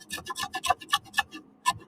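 Quick, repeated scraping strokes of a hand plane shaving wood, about eight short rasps in a fast, uneven rhythm, close by.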